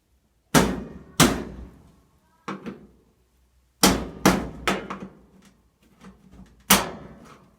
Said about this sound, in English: So you take the flathead screwdriver and go right on that spring clip and give it a little hit.